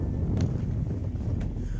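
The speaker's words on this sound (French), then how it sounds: "C'est pour ça qu'on a ce vent frais." Cool wind blowing steadily across an arid Moroccan mountain landscape, a constant low rumble of gusts buffeting the microphone with no voices.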